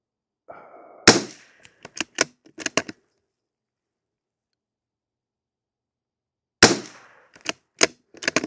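Two bursts of rifle shots are fired in a group at a target, each a sharp loud crack followed by several quicker shots, with a long silent pause between the bursts.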